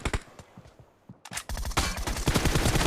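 Rapid gunfire in PUBG Mobile, with a few scattered shots at first, then a brief gap before dense, loud automatic bursts fill the rest of the clip.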